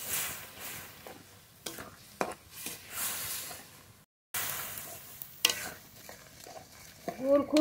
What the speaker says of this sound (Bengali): গুড় খুব ভালো করে জাল দিয়ে নেব